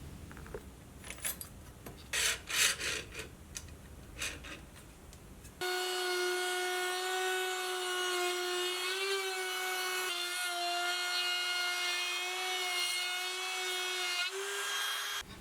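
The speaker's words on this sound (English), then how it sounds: "Here I am using a flush trim bit with a small bearing, so I'm getting a full cut with the entire length of the bit" An Ozito battery palm trim router with a small-bearing flush trim bit cuts hardwood, first with scraping and handling noises, then a loud steady high whine that holds for about ten seconds at close range with slight dips in pitch.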